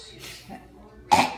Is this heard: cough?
yes